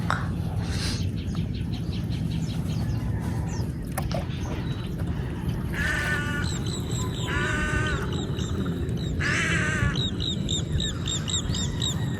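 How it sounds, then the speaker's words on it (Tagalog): Several birds call over steady background noise, with chattering trills and repeated squawking bursts from different directions. "Dito ka po makakarinig ng iba't ibang huni ng ibon"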